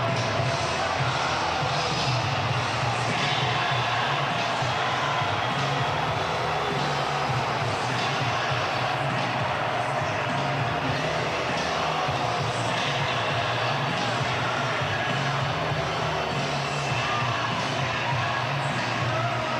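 A packed college football stadium crowd at a Louisville Cardinals vs. Pittsburgh Panthers game keeps up a steady, distant roar of cheering during a goal-line stand, the noise broad and unbroken.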